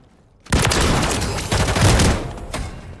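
Rapid shotgun blasts in a Modern Warfare multiplayer match, loud and dense, firing in quick succession for a few seconds after a short quiet start.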